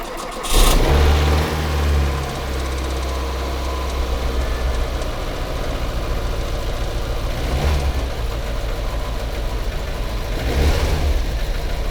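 A VAZ 2109 Lada in good condition, with its fuel pump primed and valves adjusted, cranks and fires up close by, then settles into a smooth, even idle that carries on steadily.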